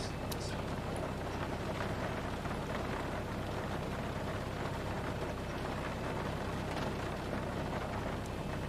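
Steady rain patters loudly in a flight simulator cockpit of a Zibo-modded Boeing 737, a continuous broadband hiss over a low engine rumble with no break.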